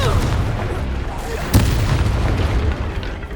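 A Confringo blasting spell explodes in the Hogwarts Legacy game with a sudden booming burst partway through, set against a dense, rumbling bed of continuous combat noise.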